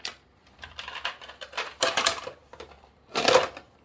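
Several bursts of hard clattering and rattling as ice cubes tumble into a blender jar holding pomegranate seeds, with short quiet gaps between the louder drops.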